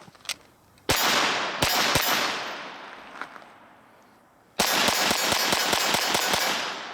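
Shots from a Walther PPQ .22LR pistol with a 5-inch barrel: a few spaced cracks, then a fast burst of about ten sharp reports fired as quickly as the trigger allows, loud and close, with ringing decay between them.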